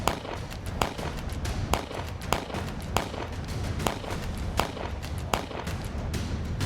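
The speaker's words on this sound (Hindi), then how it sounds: "आतंकी रह रहकर फायरिंग कर रहे हैं" Sharp gunshots crack at irregular intervals during a militant encounter in Kulgam, Kashmir, each report echoing over a constant loud rushing background noise.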